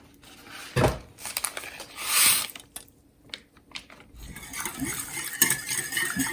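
Raspberry custard powder mixture being whisked for a fruit trifle, a close series of irregular scraping and clinking strokes of a whisk against a bowl, some louder bursts, with no talking.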